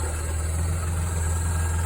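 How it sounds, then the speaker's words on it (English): A 1986 Ford Econoline van's 300 cubic inch inline six idling up close, a steady low rumbling hum with a smooth, even pulse throughout and no talk. "Here it is, the 300 cubic inch Inline Six."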